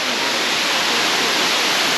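Laurel Falls waterfall in the Great Smoky Mountains near Gatlinburg, Tennessee, pours with a steady, dense, close rush of falling water, with no other sounds.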